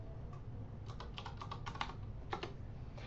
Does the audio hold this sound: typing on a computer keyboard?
yes